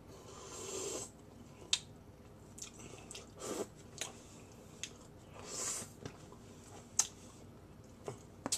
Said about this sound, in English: I'm going to slurp down the juice.